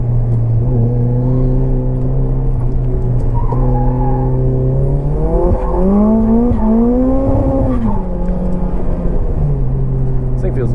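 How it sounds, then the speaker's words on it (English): A race car circles a short track while scrubbing its tires to build heat, its engine droning loudly with rising and falling pitch through gear changes, close and continuous throughout. "Scrubbing the tires a little bit. Try to get some heat in them."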